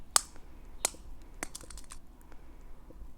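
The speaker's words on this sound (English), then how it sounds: "typing on a blue keyboard" Sparse clicks on a blue computer keyboard, a few sharp close keystrokes spaced apart in a quiet room, the later ones softer.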